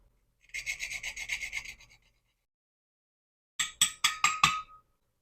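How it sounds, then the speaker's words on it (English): Whole nutmeg grated for a rum drink: two separate runs of quick, rhythmic rasping strokes, close and crisp, with a short silence between them. "grate nutmeg."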